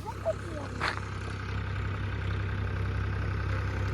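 A farm tractor engine idles with a steady low rumble throughout, close and continuous, with a brief louder knock near the start; a voice speaks over it.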